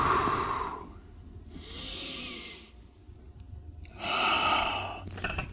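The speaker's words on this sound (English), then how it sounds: "Every time I sink, I'm going to inhale and come up and exhale." Slow, deep breaths are drawn in and pushed out during a neck traction exercise, three long airy breath sounds alternating with quieter pauses, close and clear.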